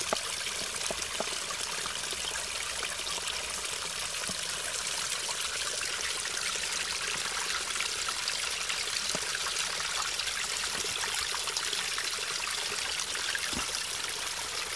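Spring water trickling out of the ground and running down into a spring head, a steady, continuous hiss of flowing water throughout with no talking.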